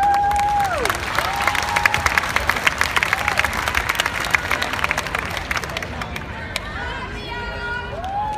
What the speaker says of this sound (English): let's give a big applause to West Bend Dance Tumbling Troupe with their show Animals.